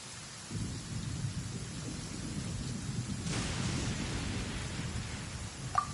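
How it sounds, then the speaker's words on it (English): Thunder rumbles continuously over steady rain in Genshin Impact's Inazuma, a low rolling roar with a brighter crack partway through and a sharp small click near the end, no voices. "Ah, so the thunder we heard was you!"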